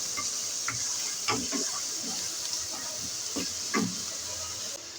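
Chicken curry frying in a pan over medium heat with green chillies, stirred now and then, giving a steady close sizzle with soft intermittent scraping strokes throughout.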